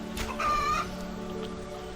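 A chicken clucks in a video game, giving a few short clucks and one higher drawn-out note over a steady background hum.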